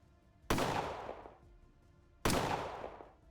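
Two sharp gunshots from the video game Colony Ship, each a sudden loud blast with a long decaying tail, spaced about two seconds apart with no talking.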